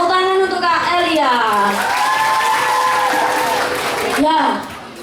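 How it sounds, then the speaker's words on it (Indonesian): An audience claps and cheers at a digital wayang golek puppet performance, with loud voices and shouts riding over the applause the whole time. "Tepuk tangan untuk Kak Elia."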